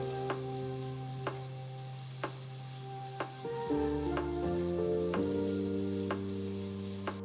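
Diced capsicum, grated carrot and grated cabbage are stirred in a hot pan for an evening street-food snack, giving a steady close sizzle broken by several sharp spoon clinks against the pan.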